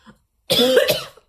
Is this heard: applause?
no